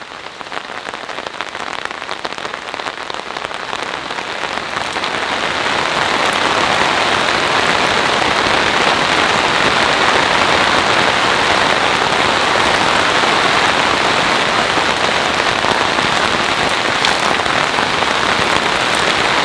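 Heavy rain pours through a forest, a dense steady rush that swells louder over the first several seconds and then holds at a full roar with no voices.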